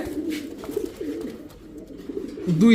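Soft coos of Teddy and other fancy pigeons rise and fall over a low, continuous murmur, with a louder warbling call near the end.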